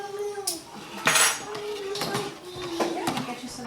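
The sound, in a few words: stirring a bread mixture in a bowl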